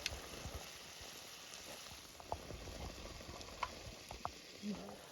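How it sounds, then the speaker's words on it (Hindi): Turmeric powder, Kashmiri red chili and salt fry in oil in a pan for a Kashmiri-style fish dish, a faint, steady bubbling sizzle with a few small pops. "अब ये सारी चीज़ें अच्छे से फ्राई हो गई है, साइड से तेल भी निकल चुका है"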